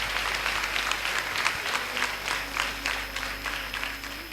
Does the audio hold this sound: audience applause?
yes